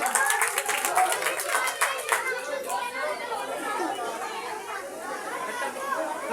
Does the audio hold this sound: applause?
yes